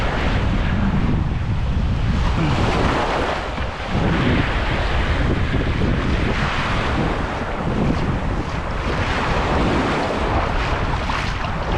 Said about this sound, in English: we do have a lot of wind today, and there is some waves out there